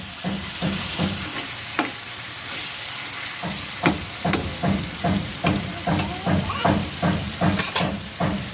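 Meat fries in oil in a pan over a village cooking fire, with a steady close sizzle and hiss broken by repeated scraping stirs throughout.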